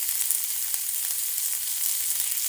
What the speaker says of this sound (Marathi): याला मी थोडंसं भाजून घेते तर बघा हलकीशी मिरची भाजलेली आहे